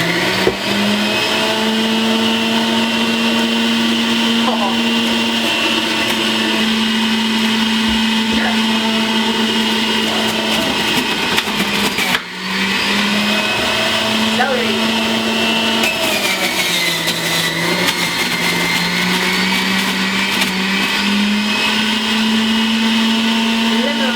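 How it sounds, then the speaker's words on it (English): A Breville juicer processes collard greens, ginger and celery, its motor running with a loud, steady, close-up whine for the whole stretch. The pitch sags briefly a few times as produce is pushed through. "Let us juice the collard greens, and then we'll follow up with a little bit of ginger here and our celery"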